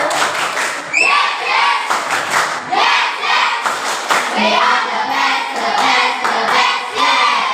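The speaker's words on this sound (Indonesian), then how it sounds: "Tepuk semangat yang kedua." A classroom of children does another rhythmic spirit clap. Loud group chanting and shouting mix with bursts of hand claps and thumps in a repeating pattern, close and lively.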